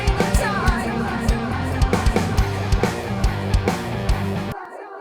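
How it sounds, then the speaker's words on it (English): Vocal line run through a delay in Pro Tools with feedback pushed to maximum, echoes piling up and repeating continuously as a dense rhythmic wash, cutting off abruptly near the end. "Now what the feedback does is it allows for the delay to repeat for longer."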